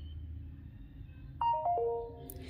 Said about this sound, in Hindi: यहाँ से आपको बहुत सारी रिंगटोन्स देखने को मिल जाती हैं।